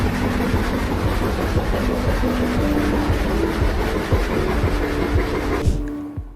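A Shinkansen bullet train tearing through Kokura Station at 186 miles per hour, a loud close continuous roar and rush of wheels on rails that cuts off abruptly at the end as the train clears.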